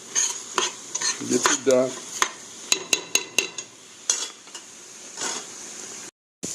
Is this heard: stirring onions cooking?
yes